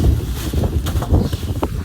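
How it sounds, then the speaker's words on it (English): Wind buffets the microphone on a moving Kugoo G2 Pro electric scooter, a steady low rumbling roar that fills the whole clip with faint rustling on top and no speech. "Oh, that is really windy."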